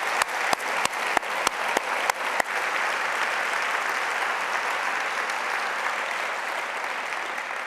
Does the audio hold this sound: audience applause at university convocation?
yes